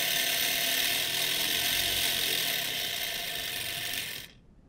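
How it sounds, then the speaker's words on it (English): A homemade three-pole DC motor runs on a DC power supply, giving a steady, loud whirring and buzzing hum with brush chatter that holds constant for about four seconds and then cuts off abruptly into silence. "Let's test out our motor with the DC power supply."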